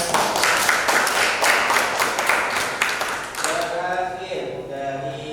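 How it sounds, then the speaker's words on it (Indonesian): A classroom audience claps for a student group after its presentation, dense clapping that fades after about three seconds as voices take over. "Baik, beri tepuk tangan."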